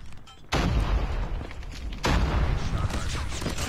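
Cordite automatic rifle firing in a shooter game, two loud sustained bursts of rapid booming shots up close, each starting abruptly and rolling on with heavy low rumble.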